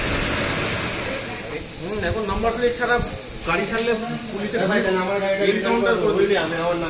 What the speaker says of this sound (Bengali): ফার্স্ট টাইম ওয়াশ হচ্ছে বাইক